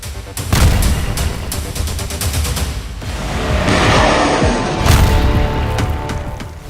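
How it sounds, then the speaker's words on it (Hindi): Missile explosions from air strikes in Syria: a rapid volley of sharp blasts, then a heavy rumbling boom and more scattered bangs, loud and close with a continuous roar underneath. "इजराइल मिलिशिया फाइटर्स को मिसाइल धमाके से उड़ा रहा है।"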